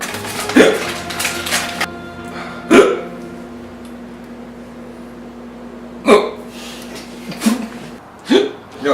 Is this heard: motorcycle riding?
no